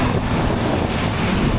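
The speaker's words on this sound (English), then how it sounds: "It is rather windy." Strong wind in Dublin buffets the microphone in a steady, rumbling roar, with a faint wash like nearby water beneath it.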